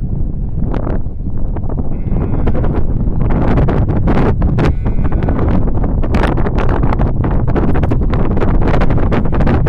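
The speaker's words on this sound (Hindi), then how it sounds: "आपको हवा की आवाज से अंदाजा होगा कितनी शदीद और ठंडी और तेज हवा चल रही है।" Strong, cold wind buffets the microphone on a mountain road up to Noori Top, a loud continuous roar with gusty surges and rustling throughout the clip, with no voices.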